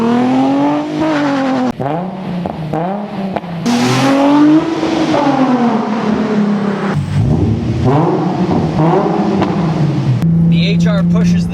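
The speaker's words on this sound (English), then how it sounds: "That V6 sings a note of pure beauty." A 2008 Nissan 350Z with a V6 engine and aftermarket exhaust revs and accelerates, its loud raspy note rising and falling through repeated gear changes, close and continuous for several seconds.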